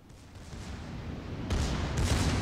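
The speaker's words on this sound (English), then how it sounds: "We might as well just shoot at that Tirpitz." Naval guns roar in a World of Warships: Legends battle as shots are aimed at the battleship Tirpitz, a dense rumbling barrage that grows heavier, with two louder booming volleys near the end and no talk.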